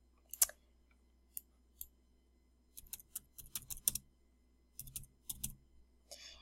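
Quiet clicks of typing on a computer keyboard come in short irregular bursts, a few isolated keystrokes followed by quick clustered runs of taps, close and soft over near silence.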